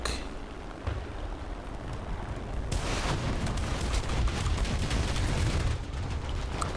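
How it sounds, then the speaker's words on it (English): Sustained heavy gunfire in War Thunder tank combat, a dense continuous roar that starts quieter and swells sharply partway through, staying loud with rapid overlapping bursts and booms. "That was angry machine gun fire. A lot of angry machine gun fire."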